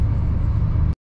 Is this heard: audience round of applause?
no